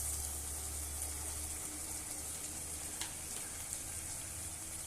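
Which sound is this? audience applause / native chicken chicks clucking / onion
onion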